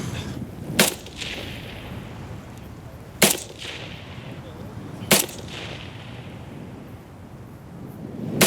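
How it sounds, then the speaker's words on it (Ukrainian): Three sharp AK-74 rifle shots ring out at uneven intervals on a range of about 100 meters, each a loud crack with a short rolling echo, over quiet outdoor background. "Постріл!"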